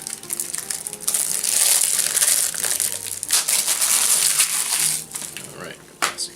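Plastic shrink-wrap being torn and peeled off a Blu-ray case, a close, steady crinkling and crackling that runs almost unbroken, with a few short pauses near the end.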